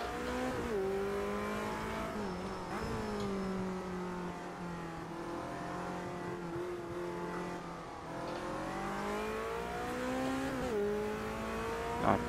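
Race car engine in the sim game Automobilista 2 drones steadily, revving up and down through gear changes with sweeping harmonic pitch rises and drops, loud and continuous, with brief tire noise.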